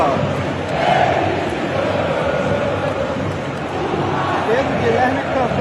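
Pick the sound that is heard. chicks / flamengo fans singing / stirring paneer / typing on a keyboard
flamengo fans singing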